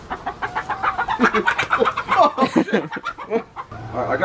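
A pet chicken wearing a harness clucks close by in a quick series of choppy, bright clucks and squawks that rise and fall in loudness, with a brief pause near the end.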